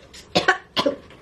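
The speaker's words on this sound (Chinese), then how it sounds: "那么老想咳嗽，以前不会的" A woman coughs twice in quick succession, close and fairly loud, with a short pause and then a second pair of coughs.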